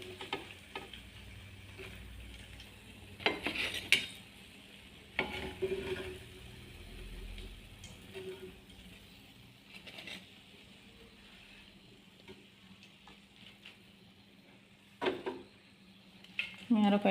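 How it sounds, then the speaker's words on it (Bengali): Beguni, batter-coated eggplant fritters, frying in hot oil: a low, steady sizzle with occasional sharp utensil clinks and scrapes throughout. "আমি আরও কয়েকটু ভেজে নিচ্ছি"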